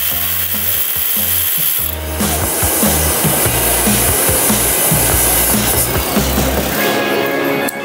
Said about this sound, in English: You hear the vacuum clearing again.